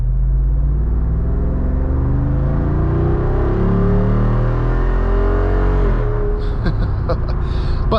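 2024 Jeep Wrangler 392 Final Edition with its naturally aspirated HEMI V8 revs loudly while driving, the engine note climbing steadily for several seconds before a sharp drop at a shift, heard up close inside the cabin.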